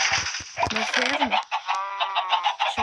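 Chickens on a farm in the Kraftmann video game cluck and squawk in a busy, overlapping chorus, loud and close, with a voice speaking briefly among the calls.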